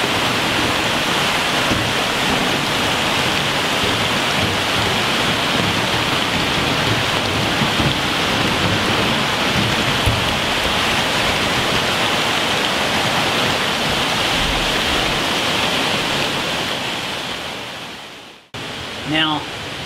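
Rising creek rushing in the rain, a loud, steady broadband roar of flowing water and rainfall that holds unbroken for most of the stretch before dropping away at the end.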